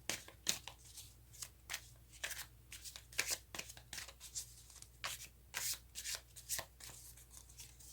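Tarot cards are shuffled by hand in quick, close, crisp riffles and slides, many short bursts over about eight seconds with no talking.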